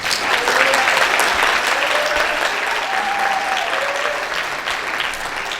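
A congregation applauds warmly in a large gathering, sustained dense clapping with a few voices and cheers mixed in, continuous and fairly loud.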